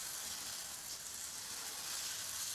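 Jowar uttapam batter sizzles steadily in a hot pan, a constant close-up frying hiss with no pauses and no talking.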